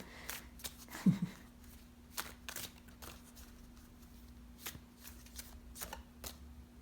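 Soft, rapid riffling of tarot cards being shuffled, a series of quiet papery flicks and taps close by with no talking.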